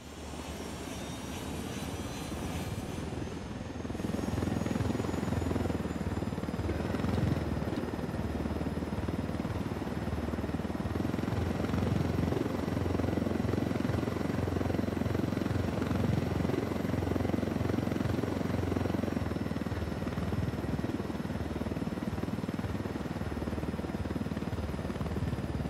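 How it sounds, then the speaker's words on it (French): A helicopter in Ghost Recon Wildlands drones steadily with a dense rotor and engine roar, rising slightly after a few seconds and then holding loud and constant throughout, with no talk. "Voilà, bien plus efficace avec un hélicoptère."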